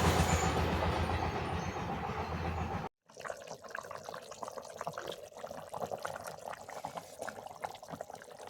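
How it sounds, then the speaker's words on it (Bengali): A pot of meat curry comes to a boil. A loud steady hiss cuts off abruptly, then a fainter, continuous bubbling crackle carries on, close to the pot, with no talking. "দেখুন বলক চলে এসেছে।"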